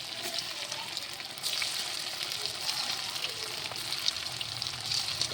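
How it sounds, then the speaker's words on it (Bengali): Paneer pieces fry in hot oil in a wok, giving a steady, close, crackling sizzle that thickens and grows louder after the first second and a half. "কড়াইয়ে তেল দিয়ে দিয়েছি, তেল গরম হয়ে গেছে। এবার একে একে সব পনিরগুলো আমি দিয়ে দিলাম।"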